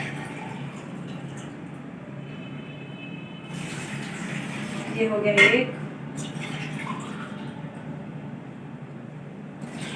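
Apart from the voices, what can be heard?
water poured from glasses into a pot for jaggery syrup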